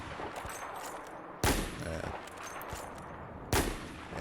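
Pistol shots in Battlefield 4, two sharp, loud reports a couple of seconds apart standing out over a steady background of game ambience.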